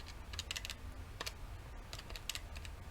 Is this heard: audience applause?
no